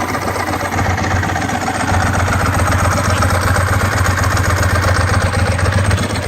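A Ducati 996 motorcycle engine idles close by, a loud, steady low rumble with a fast, even mechanical pulse that continues throughout.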